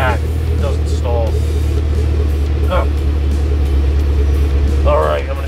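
A car engine idles steadily after the key is turned, a constant low rumble filling the whole stretch while someone talks over it at intervals.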